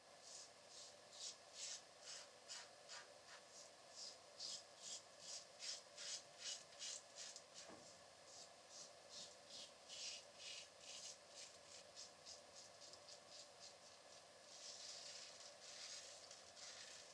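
A Henson AL13 Medium safety razor shaves down the cheek with the grain, its blade making a quiet, close run of short scraping strokes in a steady rhythm.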